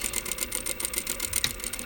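A sewing machine stitches the curved pocket of a pair of jeans, its needle running in a steady rapid rhythm close by for a couple of seconds with no talk.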